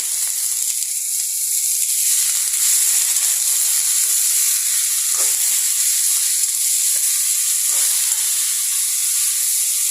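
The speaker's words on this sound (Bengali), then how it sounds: "আজকে একটু আলু ভাজি করে নিচ্ছি" Sliced potatoes fry in a pan with spices and salt, giving a steady, loud, close sizzle and hiss that runs without pause, with a few faint stirring scrapes and no voices.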